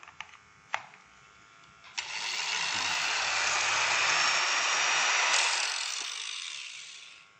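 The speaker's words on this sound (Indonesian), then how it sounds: "Dan juga bisa menyalakan gerinda." Angle grinder powered through an 800 watt pure sine inverter, a few clicks and knocks before the motor spins up into a loud, steady high whine that holds for several seconds and then begins to wind down.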